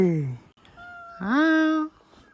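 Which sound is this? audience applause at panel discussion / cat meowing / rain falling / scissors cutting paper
cat meowing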